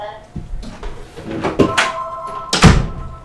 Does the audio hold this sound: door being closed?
yes